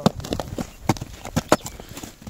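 Horse hooves clip-clop on the ground as a horse is led around during a Kyrgyz horse sale: a run of sharp, fairly close knocks in an uneven walking rhythm, with no talk over them.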